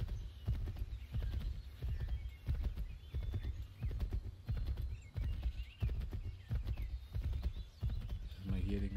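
A horse gallops along a path in Assassin's Creed 3, its hooves beating a fast, steady clip-clop up close under continuous speech, with the odd snort or whinny.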